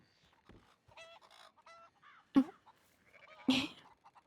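Chickens in a Red Dead roleplay video game cluck and squawk in short, scattered bursts, with two louder, sharper squawks standing out among softer calls. No one speaks.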